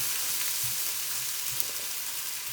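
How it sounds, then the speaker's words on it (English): Vegetables being stir fried in a pan, with a steady broadband sizzle throughout and soft low knocks and scrapes of stirring, close and fairly loud, with no talking. "And you stir fry that"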